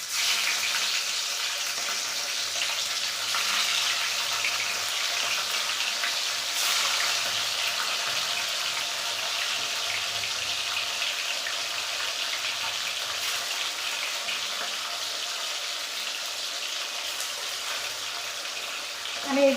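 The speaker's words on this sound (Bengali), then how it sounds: "মাছের কাঁটাগুলো ভেজে নিই।" Bhetki fish bones frying in smoking-hot oil over a lowered gas flame, a continuous dense crackling sizzle that runs unbroken and fairly loud with no talk.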